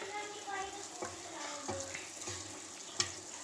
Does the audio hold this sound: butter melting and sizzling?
yes